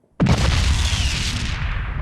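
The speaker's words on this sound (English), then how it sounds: "Again, the sound of an explosion." A sudden, loud explosion used as an effect in a Final Fantasy VII audiobook: a sharp onset followed by a sustained, roaring rumble that fills the space and slowly thins out, with no voice over it.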